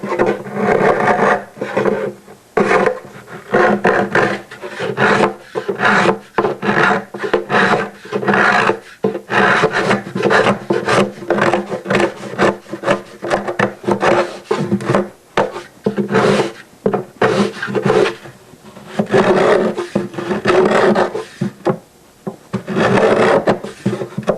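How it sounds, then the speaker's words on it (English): A gramil marking gauge scrapes a binding channel line into a wooden instrument body, producing repeated rasping strokes in a steady back-and-forth rhythm, close and fairly loud, with no talk. "it scrapes a nice clean line along there for your bindings"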